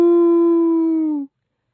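Jackals howl in the distance, a single long, steady howl that holds its pitch and then fades out after about a second, with nothing else heard around it.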